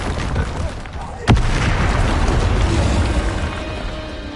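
A Confringo blasting spell in the Hogwarts Legacy video game goes off as one sharp, loud burst, then a broad rumbling roar trails on under the game's ongoing sound.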